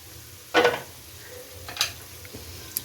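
A spatula stirs aloo gobi, potato and cauliflower, in a pan, with two or three short scraping, sizzling strokes over a faint low background hum and no talk.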